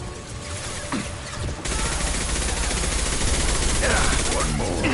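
A high-impact gunshot in a video game sounds as loud, dense rapid fire that gets heavier partway through, with voices talking over the shooting.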